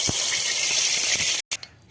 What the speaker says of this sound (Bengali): তেলের মধ্যে আবার সরষের তেল দিয়ে দেবো